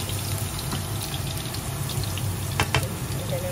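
Garlic and onion sauté in hot oil for a corned beef and potato lunch, a steady close hiss with a couple of sharper spatters near the end.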